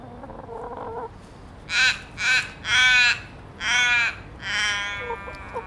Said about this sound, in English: Is it a forest raven?